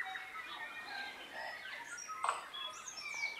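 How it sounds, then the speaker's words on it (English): Birds sing and chirp in a forest soundscape, several faint overlapping whistles and trills spread out in the distance with no voices. "You can't hear yourself because of the sound of the birds."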